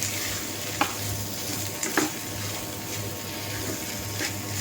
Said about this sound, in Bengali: শুকনো মরিচ টালা আর আলু একসাথে করে মিক্স করে ভেজে নেব সুন্দর করে